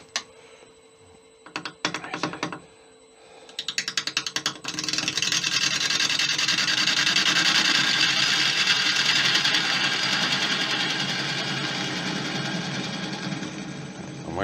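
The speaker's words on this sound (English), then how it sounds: "the first thing I'm going to do is face off here and put a mortise into it" A wood lathe faces off an acacia and resin rescue bowl blank: a few sharp knocks and taps first, then a loud, steady broadband cutting roar builds and holds for several seconds, close by, with no talk.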